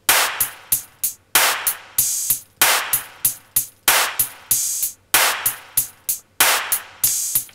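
A programmed drum beat in Logic Pro mixing a Latin percussion kit with hi-hats, looping in a steady, busy rhythm of crisp, bright hits and sharp accents, loud and close with no voices.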